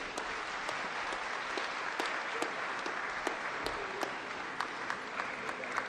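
Audience applause after a speech at an annual New Year school and conference in Ghana, steady crowd clapping heard at a distance with a few sharper individual claps standing out.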